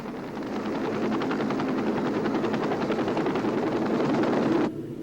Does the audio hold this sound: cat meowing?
no